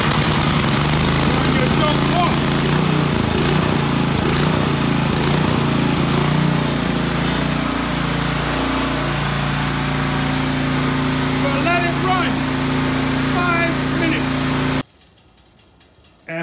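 A Troy-Bilt Vortex Tracker 2890 snowblower's small engine runs close and loud with a steady buzzing drone and some uneven chugging, then cuts off abruptly near the end.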